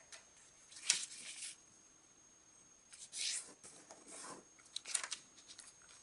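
Origami paper folded for a jumping frog, edges brought to the center, gives three short papery crinkles and swishes, close and quiet, spaced a couple of seconds apart with near-silence between.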